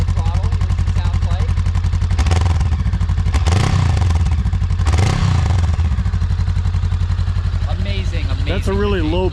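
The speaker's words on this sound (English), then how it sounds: "We'll give it a little bit of throttle, here's what it sounds like." A Honda Rebel 500 parallel twin idling with a deep, steady, rapid pulse, loud and close, then revved twice in quick throttle blips that swell and fall back, with a voice at the end.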